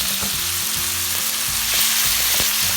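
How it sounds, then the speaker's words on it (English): Spaghetti puttanesca sauce with olives and tomatoes sizzling steadily in a pan, with soft stirring scrapes at a regular pace and no talk. "Give that a nice little stir. And you can go ahead and add the tomatoes in as well."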